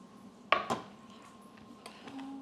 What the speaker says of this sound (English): You take a jalapeno, cut off the top, cut it in half.